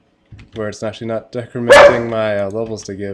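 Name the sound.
dog barking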